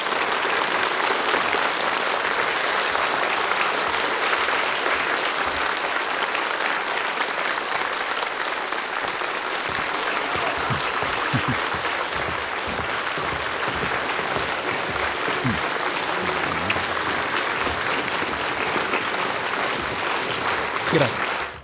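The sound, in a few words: applause at a concert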